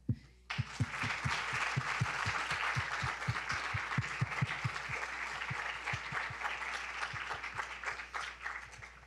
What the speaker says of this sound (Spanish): les pido por favor un aplauso para ustedes mismos